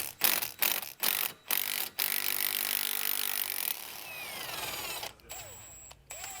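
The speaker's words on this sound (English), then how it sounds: "Now we're gonna go ahead and remove the steering shaft bolt to the steering rack" Ratcheting tool loosens a factory thread-locked E10 Torx bolt joining the steering shaft to the steering rack on a 2008-2013 BMW E90 M3, close and loud: sharp clicking bursts, then a sustained grinding turn and squeaky metal rubbing.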